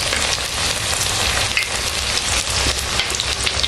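Banana flower vada frying in hot oil, a dense, steady crackling sizzle heard close and fairly loud, with small pops scattered throughout.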